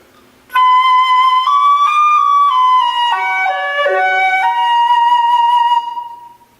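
A flute played with poor embouchure gives a short melodic phrase of sustained notes with a thin, slightly airy tone, close and alone, ending after about five seconds.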